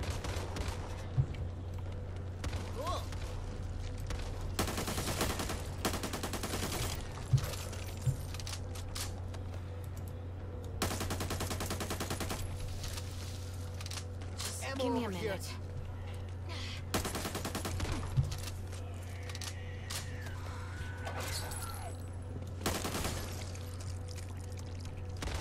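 Bursts of weapon gunfire in the zombie shooter Back 4 Blood, several loud rattling volleys spaced through the stretch over a steady low game hum, with occasional talk mixed in.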